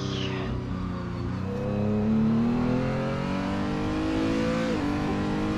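A Renault R.S. 0.1 race car engine accelerates in Assetto Corsa at the Nürburgring, a loud, close mechanical whine climbing steadily in pitch through the gears, with a brief dip before it rises again.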